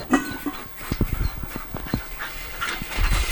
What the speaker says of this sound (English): And then finally, there are some 3 puppies that you need to see.